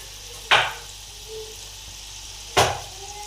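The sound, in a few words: potato chips frying in oil over medium heat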